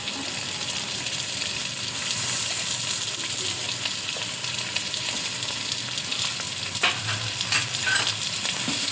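Bottle gourd, cucumber and carrots frying in oil give a continuous close sizzle, with stirring scrapes and a few sharper clinks of the spoon against the pan.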